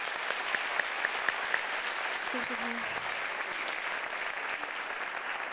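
Audience applause at a women's innovation panel in İzmir, a steady wash of clapping filling the room throughout, with a brief spoken thank-you from a speaker over it.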